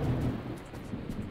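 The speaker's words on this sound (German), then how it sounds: "Das ist der Regen. Ich hasse Regen in diesem Spiel." Rain and thunder in the factory-building video game Factorio: a low rumble of thunder rolls over a dense hiss of rainfall, loud at first and then easing into a steady wash.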